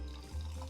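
Cold ginger ale pours close by with a steady, fizzy liquid rush that swells slightly partway through, heard alone without talk.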